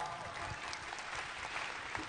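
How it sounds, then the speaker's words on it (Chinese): Applause from an audience at a leadership training seminar, greeting the two event hosts; a steady, moderately faint wash of clapping sustained throughout without pause. "给他们一个掌声好不好"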